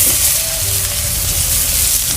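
Chopped onion fries in a pan in a Bengali village kitchen, giving a loud, even sizzle and hiss that runs without a break, over a low rumble and with no speech.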